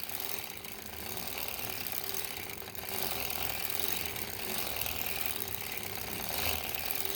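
A circular sock knitting machine is cranked by hand while knitting the leg with the ribber set up. It gives a steady, soft mechanical whir with continuous ratcheting clicks and no voices.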